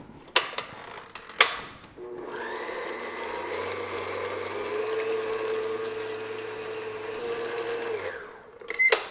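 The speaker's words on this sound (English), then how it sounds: "just beat this on medium speed just until foamy, just to break up the egg whites" An electric hand mixer whirs steadily at medium speed, beating egg whites in a bowl until foamy for a chocolate angel food cake, with clicks and clatter before it starts and as it stops.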